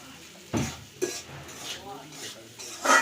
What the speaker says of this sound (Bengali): তো আমার ফেভারিট নুডলস রান্না করতেছে আম্মু।